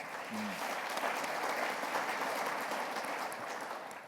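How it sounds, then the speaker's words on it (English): Conference audience gives a round of applause, a dense, even wash of many hands clapping that holds steady for several seconds with no talk over it. "I think they deserve a round of applause."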